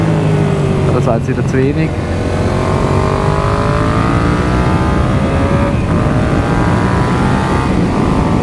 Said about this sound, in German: Das Gas geben zum Runterschalten.